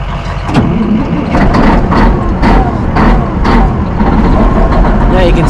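A chopper motorcycle engine catches and settles into a loud, close idle, rumbling steadily with repeated revs as it warms up, while a voice talks over it.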